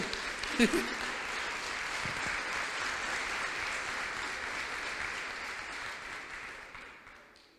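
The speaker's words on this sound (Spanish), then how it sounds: "denle un fuerte un aplauso al Señor." A church congregation claps in sustained, even applause during a sermon, fairly soft and distant, with a faint voice near the start before the clapping slowly fades.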